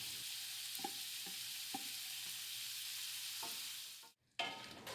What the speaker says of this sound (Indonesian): Setelah tumisan bawang dan garam tercampur rata, berikutnya kita masukkan potongan tuna.